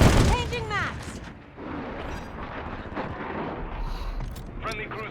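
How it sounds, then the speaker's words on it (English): A cruise missile strike in Call of Duty Modern Warfare 3 lands with a heavy booming blast at the start, followed by rumbling, scattered gunfire and explosions while someone talks over the game. "Friendly cruise missile deployed."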